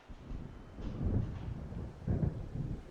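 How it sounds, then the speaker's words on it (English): Low rumbling thunder of an approaching storm rolls through the Alan Wake video game, a deep, steady roar that swells in two heavier surges, with no speech. "It seems there's a storm coming."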